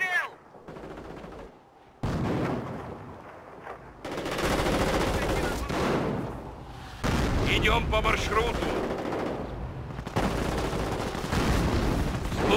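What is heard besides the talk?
gunfire and machine-gun fire in the video game Company of Heroes: Opposing Fronts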